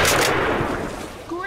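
A single loud gunshot on a hunt, a sharp close blast that decays into a rolling echo over about a second, with faint sounds at the tail.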